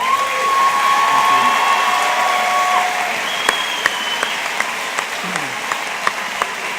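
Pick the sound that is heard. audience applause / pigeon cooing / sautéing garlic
audience applause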